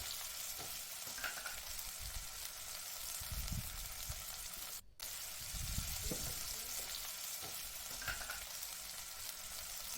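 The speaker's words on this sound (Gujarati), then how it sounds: "તેલમાં રાઈ, જીરું, હિંગ, મીઠો લીમડો, હળદર એડ કરીશું તથા આપણી જે સમારેલી ચિપ્સ છે એડ કરી લઈશું" Potato chips frying in hot oil with mustard seeds, cumin, asafoetida, curry leaves and turmeric for a Gujarati potato shaak, a steady sizzle with intermittent stirring scrapes and a brief dropout midway.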